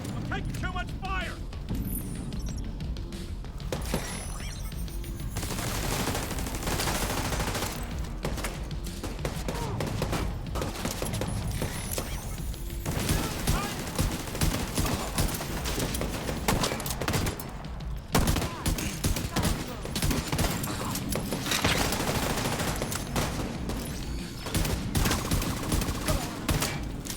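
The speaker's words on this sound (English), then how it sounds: "I'm taking too much fire." Rapid gunfire from the video game The Division 2 rattles in dense automatic bursts and single shots, loud and continuous, with a voice talking over the shooting.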